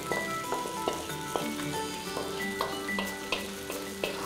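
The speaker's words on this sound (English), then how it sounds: "Cook up all the spices, and we're gonna add that beautiful ash plantain into there as well." Spices and ash plantain fry in a pan with a steady, close sizzle, punctuated by regular clinking taps of a utensil stirring against the pan.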